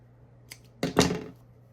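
Scissors snipping crochet yarn: a faint click, then a short crisp double snip close by in a quiet room.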